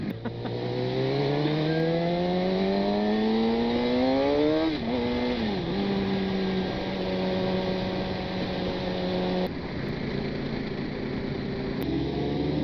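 Motorcycle engine noise on a road ride, from a KTM RC8 or GSX-R750, loud and close, with a steady rising drone that shifts pitch through gear changes and holds under constant wind.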